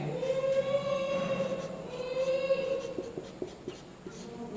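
Writing on a classroom board during a Class 10 maths lesson on real numbers, with a steady scratching stroke pattern that runs for several seconds, close and moderately loud, without talk.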